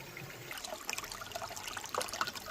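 Water drains out of a koi pond filter in a faint, steady trickle with small splashes and gurgles, heard alone and without talk.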